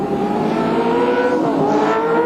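Touring race cars at Mallala in the 1994 ATCC round scream past on the track, their loud, close engines holding high revving tones that shift in pitch as they go by.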